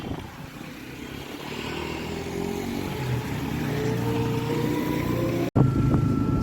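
Steady electric hum and whine of an Ather Rizta Z 2.9kWh electric scooter climbing a hill road at Yercaud, with wind rush building gradually, a brief dropout near the end, and no talk.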